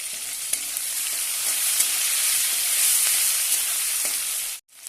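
Onion and a small tomato frying in a pan while being stirred, a bright steady sizzle with a few soft utensil knocks, ending abruptly.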